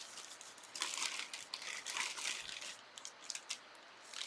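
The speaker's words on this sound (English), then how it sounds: "That's a plastic bag." Plastic bag crinkling and rustling as it is handled close by, a steady run of crisp crackles with brief pauses and bursts, no talk.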